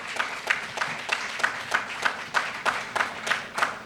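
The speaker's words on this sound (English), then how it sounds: "Give yourselves another round of applause." Audience at a Muhammad Mosque gathering giving a round of applause, heard as rhythmic, fairly steady clapping with regular pulses, moderately loud and continuous throughout.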